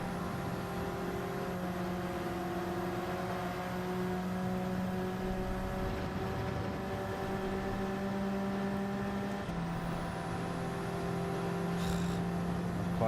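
Porsche race car engine in Gran Turismo 7, a steady droning hum held at constant revs for most of the stretch, then a shift in pitch partway through as the car changes gear or speed, with no talk over it.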